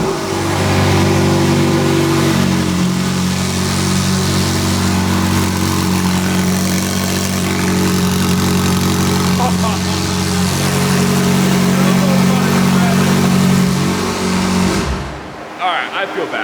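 A McLaren 720S supercar engine with modified exhaust runs loud and close, holding a steady idle and rising in repeated revs before cutting off abruptly near the end.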